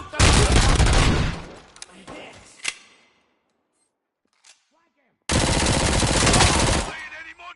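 Gunfire in the Robocop Rogue City video game: a dense burst of rapid automatic shots fills the opening seconds, then fades through a few scattered cracks into near silence before another loud sustained volley erupts.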